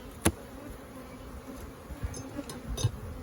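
Guard bees buzzing around a freshly opened beehive, a steady close drone with individual bees zipping past the listener now and then.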